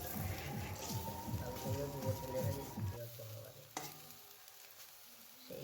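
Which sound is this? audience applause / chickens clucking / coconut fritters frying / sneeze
coconut fritters frying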